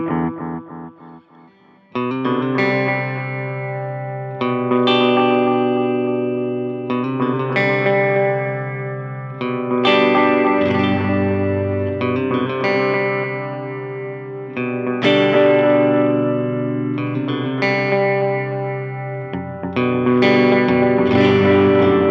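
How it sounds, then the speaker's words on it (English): Electric guitar through a Malekko Ekko 616 MKII analog delay pedal with its time knob turned down, plucked chords and notes answered by quick, short repeats, each phrase ringing and blurring into the next under a dark, slightly distorted tone. "this is what it sounds like when the time knob is turned down. I have a little bit of a faster delay."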